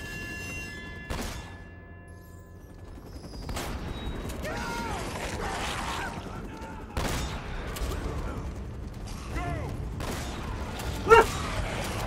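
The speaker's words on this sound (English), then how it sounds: "Sully, your shotgun sucks" Shotgun blasts and gunfire in a firefight in the video game Uncharted, several sharp, separated bursts spread across a busy stretch with some mechanical clatter between them.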